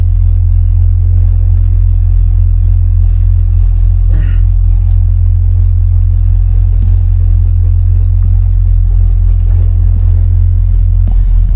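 A 1969 Buick Skylark idles while backing into place, giving a loud, deep, steady rumble with a few faint clicks and knocks over it.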